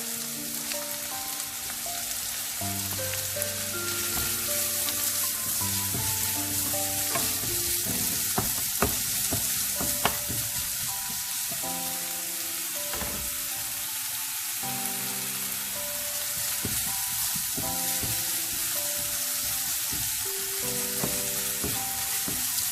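Finely chopped onion and garlic sauté in an oiled pan for tomato chutney, giving a continuous close sizzle with occasional stirring scrapes, while faint background music plays throughout.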